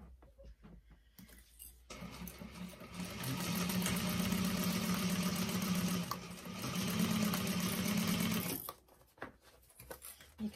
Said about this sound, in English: we're going to go around the whole bag, sewing it together with a half inch seam allowance